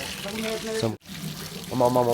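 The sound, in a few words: natural hot spring water flowing at Vashisht temple, Manali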